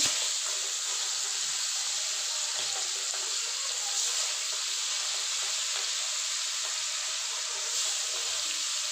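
Steady, dense sizzling of large fish pieces frying in hot oil, a continuous crackling hiss with faint clinks, close and fairly loud, no voices.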